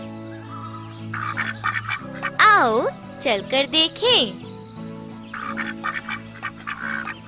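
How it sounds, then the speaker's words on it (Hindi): Ducks in a children's cartoon quack in a lively series of nasal calls, mixed with background music while people talk. "आओ बतखें गिने।"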